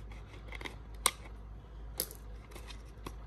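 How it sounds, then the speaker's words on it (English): Scissors snip a few times, sharp crisp cuts spaced about a second apart, close up in a quiet room. "At least make an adult cut stuff for you with scissors like this."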